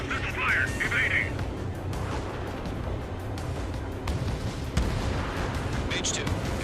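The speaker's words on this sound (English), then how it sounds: "Fox 2. Missile fire." Missiles fire during jet dogfighting in the video game Ace Combat 7, with sharp launch bursts and whooshes over a constant engine roar, and radio-style voices talk over the action.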